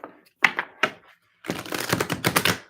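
Tarot cards are shuffled close up: a few quick separate flicks, then a longer rapid riffle of crisp papery snaps.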